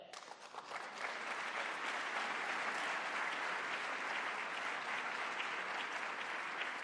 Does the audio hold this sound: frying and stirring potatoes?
no